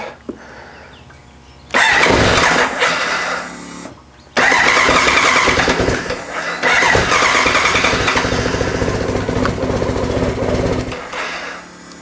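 A BMW K100RS 16V motorcycle engine cranks and fires on choke after a brief false start, then settles into a loud, steady close-up idle with a rising rev, no talking.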